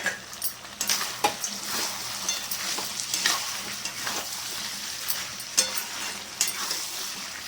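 Fried potatoes stirred into a bubbling red mutton curry, a loud continuous sizzle broken by repeated scraping strokes of a spoon against the pot, close and steady throughout.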